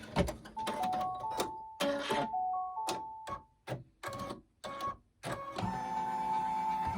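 An embroidery machine stitches a gnome hat, running close with rhythmic clicking and a whirring motor hum that starts and stops in short bursts, then settles into a steady run.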